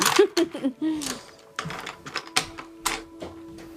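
Light clicking and tapping of small objects being handled, a series of irregular taps close by, with some faint movement noise between them.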